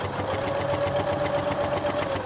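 A sewing machine stitches a quilt binding, a fast even motor whir with a steady hum, close and alone for a couple of seconds.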